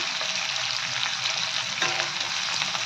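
Cauliflower, carrot, green chilli and onion sautéing in a pan, giving a steady close hiss of frying with the occasional stir, loud and continuous throughout.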